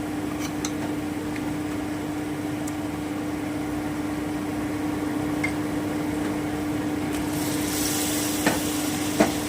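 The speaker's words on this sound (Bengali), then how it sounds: "এবারে আমি চিকেনটা দিয়ে দিচ্ছি ম্যারিনেট করে রাখা" Marinated chicken fries in a pan over medium heat, a steady even sizzle under a constant low hum, with a few faint clicks of a utensil and no voices.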